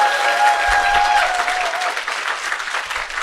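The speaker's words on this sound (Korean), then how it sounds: "여러분 자신을 위해서 큰 박수 한번 치고 시작해볼게요" A short burst of loud audience applause at a business presentation, the crowd clapping for themselves before the talk begins; dense and close, with a faint tonal hum underneath and no voices.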